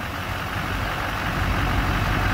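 A 2005 GMC 2500 HD crew cab pickup with a Duramax diesel idling nearby, a loud, steady low rumble with a broad, even clatter that holds without change.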